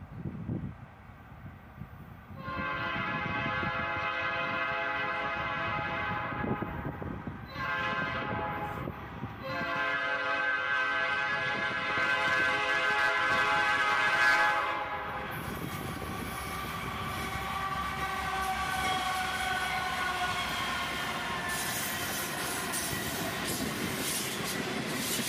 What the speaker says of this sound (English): we'd catch this lash-up with a GP38-2 trailing